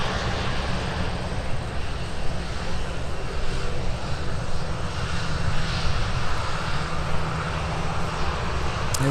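Airliner taxiing on the ground at Minneapolis–Saint Paul airport, a steady, loud engine roar and whine that holds level throughout with no other sounds breaking through.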